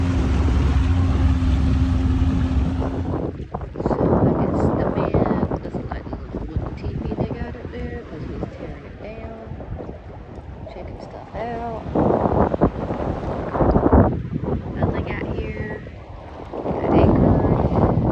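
Strong breezy wind at Nassau Sound buffets the microphone in heavy low rumbling gusts, with a boat setting and people talking over it throughout.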